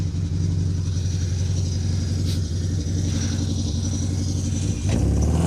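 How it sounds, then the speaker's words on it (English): A rally car's engine revs hard on an asphalt stage at the R Kings Down Rally, a loud, steady roar that holds for several seconds and surges near the end, with no talk over it. "you can hear the car"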